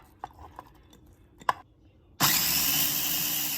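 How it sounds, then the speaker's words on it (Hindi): An electric chopper chopping garlic starts up after a few soft kitchen clicks and knocks, then runs as a loud, steady whirring buzz that continues to the end. "और ये बारीक बारीक मैंने चॉप कर लिया है इसमें चॉपर में।"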